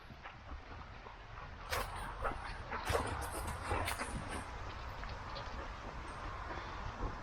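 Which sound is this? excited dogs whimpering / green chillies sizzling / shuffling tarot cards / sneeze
excited dogs whimpering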